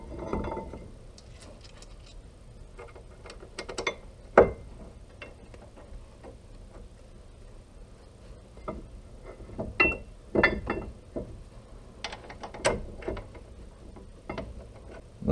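Caliper bracket bolts with new hardware are tightened on a Subaru Forester's front brakes: a ratchet gives repeated quick clicking bursts, close and fairly faint, mixed with occasional metallic clinks.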